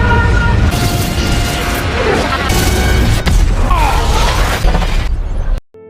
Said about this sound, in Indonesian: mesin dimensi yang tidak stabil membuatnya meledak